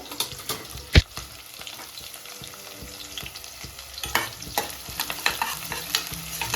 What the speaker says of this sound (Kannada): ಚೆನ್ನಾಗಿ ಫ್ರೈ ಮಾಡ್ಕೊತಿದ್ದಾರೆ.